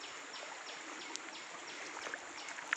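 Water flowing along an irrigation channel on a mango farm in Bodinayakkanur, Theni district, a continuous gentle burbling rush, close, with a few faint bird chirps above it.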